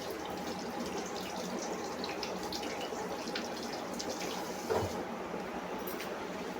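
Tap water running into a kitchen sink during hand washing, a steady hiss of flowing water with a faint splash midway, fairly quiet, and a single brief spoken word.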